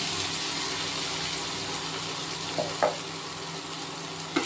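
Sabudana (soaked tapioca pearls) tossed into a pan for khichdi, with a steady low sizzle of frying throughout and a couple of soft scraping stirs near the end, fairly quiet and with no talking.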